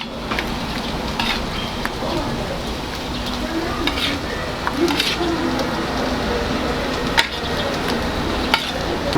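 Lamb kidneys being stirred together with chopped coriander in a bowl, a steady wet, squelchy mixing texture with occasional brief clicks, close and continuous with no talking.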